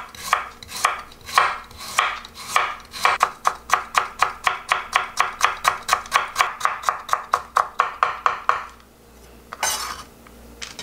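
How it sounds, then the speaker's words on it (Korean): A knife chops carrot into thin julienne strips on a board, a quick, even run of crisp, close taps that speeds into a steady rhythm, then stops abruptly, followed by a few lighter knocks. "당근도 조금 가늘게 채를 좀 썰어 주겠습니다."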